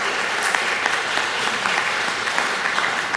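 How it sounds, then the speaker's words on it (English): Steady applause from an audience at a talk on medical marijuana, honoring an event organizer; even, continuous clapping at moderate level from start to finish. "a special round of applause"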